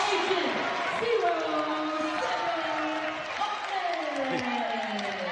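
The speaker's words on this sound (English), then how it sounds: "The crowd gets excited about dunks at home." A home crowd at a Pepperdine college basketball game cheers after a dunk, a broad roar of noise under an announcer's steady play-by-play commentary.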